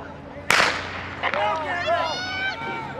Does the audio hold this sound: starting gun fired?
yes